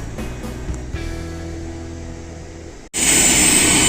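An airliner taxiing after landing at Suvarnabhumi Airport in Bangkok gives a steady engine hum that cuts out abruptly, then returns as a loud, bright whine and roar.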